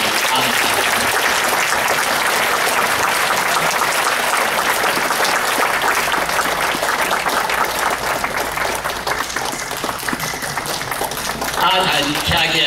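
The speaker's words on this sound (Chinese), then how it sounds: "即摆咱大家用热烈的掌声来欢迎阿谭" An audience claps steadily and loudly to welcome a speaker, disabled inventor Liu Da-tan, at an NATPA annual meeting, a sustained dense wash of applause lasting throughout with a slight dip near the end.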